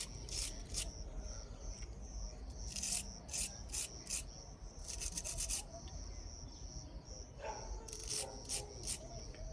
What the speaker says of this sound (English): I'm just busy cleaning up the threads on this one.